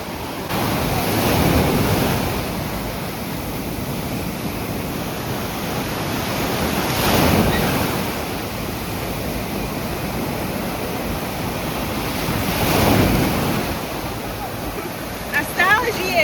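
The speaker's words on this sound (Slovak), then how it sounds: "Tu v zátoke smrti, kde sú najväčšie vlny z celej pláže" Big ocean waves breaking on a Barcelona beach, loud rolling surf swelling and crashing in slow surges roughly every six seconds, with steady wind rumble on the microphone and no talk.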